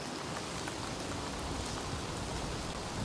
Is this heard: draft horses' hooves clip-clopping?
no